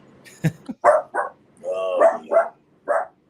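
A dog barks repeatedly nearby, several short loud barks and a whimpering yelp in an uneven rhythm.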